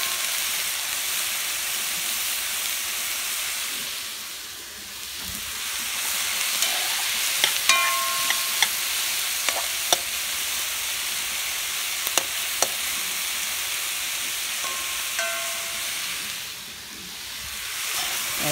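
Pigtail and okra rice being stirred in a pot. A steady sizzle and hiss runs throughout, with scattered scraping clicks of a spoon against the pot and no talking.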